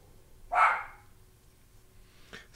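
A single dog barks once, fairly close and clear, in a quiet indoor room, with a faint second yelp near the end.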